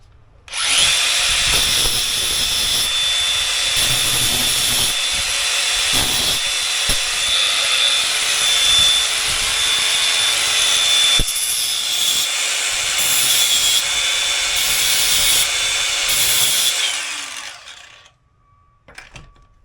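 A power tool grinds grooves into a C-clip on a Raceworks GZ coilover strut for a rear upright rebuild, a loud, steady high-pitched whine running continuously for about seventeen seconds before cutting off.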